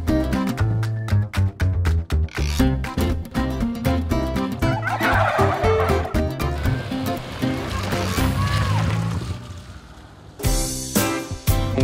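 Farm turkeys in Lincolnshire gobbling in repeated loud bursts, densely layered with a steady noisy background throughout and a brief lull near the end.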